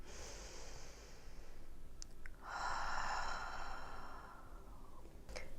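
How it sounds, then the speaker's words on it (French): Slow inhale through the nose during prenatal yoga, a faint breath followed by a longer, louder airy rush of air lasting about three seconds, with small clicks around it in a quiet room. "Encore une fois, on inspire."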